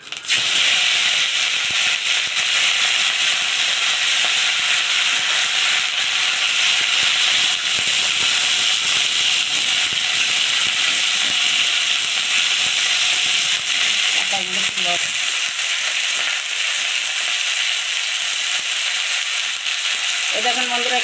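Neem leaves frying in oil for a Bengali neem begun dish give a steady, loud hiss and sizzle that runs close-up throughout, with a few faint clinks near the end.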